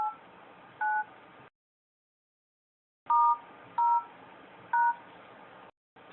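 Keypad button tones on a phone dialer, a handful of short, clean beeps each a distinct pitch, pressed one at a time with gaps and a stretch of silence between them.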